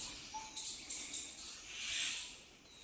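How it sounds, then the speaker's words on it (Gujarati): Birds call from trees beside a river, with thin, high chirps and short trills coming in bursts over a steady insect-like hiss, moderately faint and with no talking. "પંખી જ બોલે ઝાડમાં"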